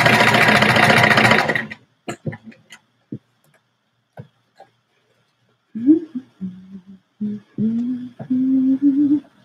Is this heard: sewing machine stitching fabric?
yes